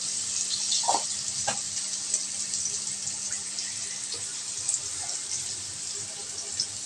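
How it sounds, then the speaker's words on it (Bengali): Potatoes dropped into hot oil for a thin magur fish curry hiss and sizzle continuously in the pan, a bright, steady frying crackle with a few small pops and clinks, close and fairly quiet, with no talking. "আমি এখন আলুগুলো ছেড়ে দিচ্ছি"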